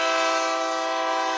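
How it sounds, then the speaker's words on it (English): A loud, sustained train horn chord blares as a radio jingle that opens a phone-line segment, steady and close with no talk over it. "When you hear the train horn, we'll go to the phones."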